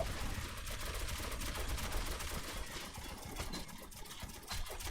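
Automatic gunfire from the video game Metro 2033 Redux, a dense, sustained rattle of shots over a steady low engine-like rumble, fairly loud and continuous throughout, with no talking.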